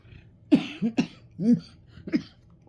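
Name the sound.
cough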